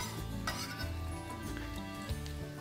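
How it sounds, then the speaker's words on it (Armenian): Ingredients for penne alla vodka stirred in a pot, giving soft, quiet scraping and light clinks of a utensil against the pan over a low continuous cooking hum. "և մի հատ խառնում եմ"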